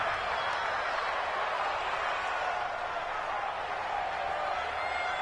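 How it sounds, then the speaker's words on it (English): A crowd roars steadily in an American football video game on PS4 as a big third down approaches, a loud continuous wash of cheering with no clear breaks. "The crowd getting into it as we come up on a big 3rd down."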